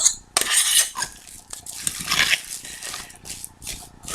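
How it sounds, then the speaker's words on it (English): Cooked potatoes tipped into fish and mixed together for fishcakes, with repeated scraping and clinking of a utensil against a bowl in irregular bursts, fairly close and moderately loud, no talk. "So now I'm just going to tip my potatoes into my fish and mix it all up together."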